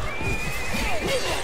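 Horse in the medieval combat game War of the Roses gives a loud, close whinny with clip-clopping hooves, voices talking over it.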